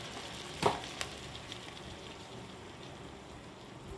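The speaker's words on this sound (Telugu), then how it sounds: "ఇప్పుడు ఇది వేగనిద్దాం బాగా మెత్తగా వేగాలి ఇది" Shredded cabbage, carrot and potato with red chilli frying in a pan, a steady soft sizzle and crackle with a couple of sharp stir clicks early on, no voices.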